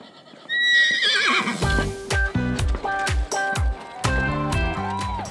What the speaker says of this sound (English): one of my favorite things about cowboy mounted shooting are the amazing horses